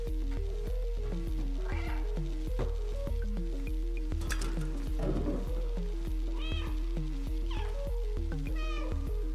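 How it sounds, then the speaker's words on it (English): Repeated cat meows from the video game Stray sound over a steady, looping electronic music track, several distinct drawn-out cries spaced a few seconds apart, fairly loud and close. "I've meowed 100 times."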